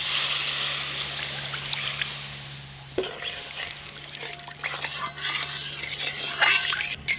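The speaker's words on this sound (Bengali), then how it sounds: "এবার পরিমাণ মতো জল দিয়ে দেব" Water goes into fried fish curry masala in a pan, first a steady frying sizzle, then a sudden splash and bubbling hiss followed by stirring and clinks of a utensil against the pan, close and alone.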